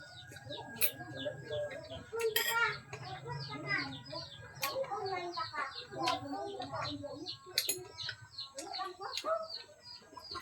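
Chickens cluck and chatter close by in a busy, irregular stream, with brief chirps mixed in and a low hum underneath.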